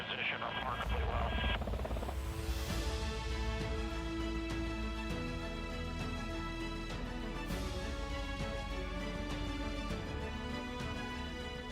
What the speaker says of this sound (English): You're going to see the aircraft come up to a stabilized hover